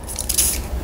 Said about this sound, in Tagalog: So, I'm going to spray for both eyes